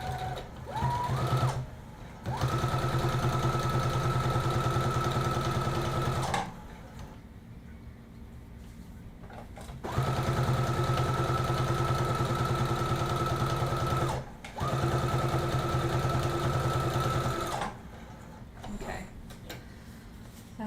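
A sewing machine top stitches the back seam of a dress in three long steady runs with pauses between them, the motor humming with a fast regular ticking, close and loud, with faint handling sounds in the gaps.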